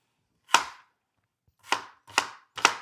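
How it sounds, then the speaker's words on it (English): A knife chops onions on a cutting board for a chicken tikka masala dish, four crisp, separate strikes, one followed after a pause by three in quick succession, close and clear with no talking. "It's fun to hear the chopping."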